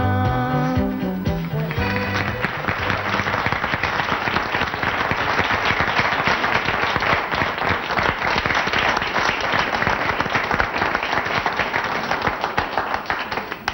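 A large television studio audience bursts into sustained applause after the last notes of a song fade, a dense, even clapping that carries on throughout.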